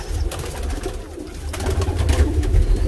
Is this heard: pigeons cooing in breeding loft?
yes